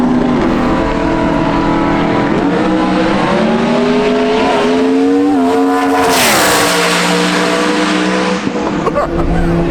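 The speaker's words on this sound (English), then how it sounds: "at 212 miles an hour. That is one fast Mustang." A street car elite class Mustang drag car tears down the TX2K drag strip at about 212 mph, heard at half track. A loud, rising engine howl dips at a shift, then roars on, close and dominant.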